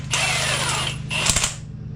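Impact wrench snugging a spring compressor on a 1999–2004 Mustang GT during a spring install, buzzing rapid hammering in two runs against a steady mechanical hum, close and loud.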